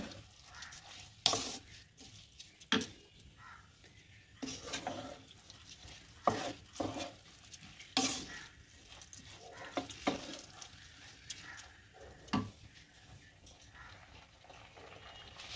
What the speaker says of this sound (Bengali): দিয়ে ভালোভাবে নেড়ে নেব।